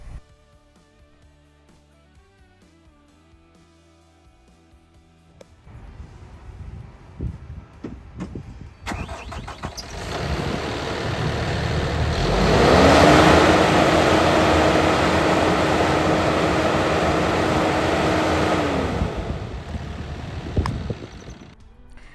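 The engine of a Kubota SVL97-2 compact track loader starts up and revs with its belt-driven fan, a loud roaring whoosh that swells and holds at high volume, then drops away.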